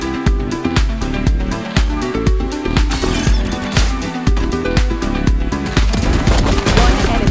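Rapid bursts of pistol gunfire ring out in the video game Valorant, a dense run of loud, sharp repeated shots spread across the whole stretch.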